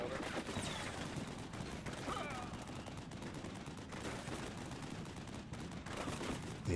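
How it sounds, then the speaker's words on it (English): Steady gunfire from the Cold War wargame Combat Mission Cold War, including heavy machine gun bursts, keeps up a dense rattling crackle through the whole stretch, with voices faintly mixed in. "We bring them up to provide flanking covering fire with their 50 cals."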